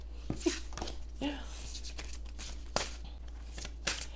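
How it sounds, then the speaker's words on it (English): Tarot cards being shuffled in irregular riffling bursts and slaps, close up, with a person's voice murmuring under the handling. "These cards are kind of hard to shuffle"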